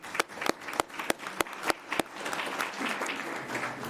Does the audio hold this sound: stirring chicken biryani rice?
no